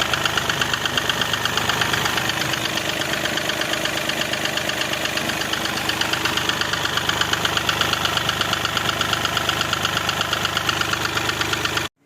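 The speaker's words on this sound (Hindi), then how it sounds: "एक्चुअली ये गाड़ी ओवर हीट हो गई है और इसमें कुछ साउंड आ गया है" An overheated Mahindra Bolero Power Plus three-cylinder engine runs close by with a loud, steady, rapid metallic knocking over a dense mechanical drone, continuous and alone.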